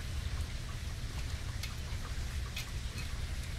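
Steady rain falling outdoors near a yard, a dense continuous hiss with a few sharper drop ticks, fairly loud and close with no voices.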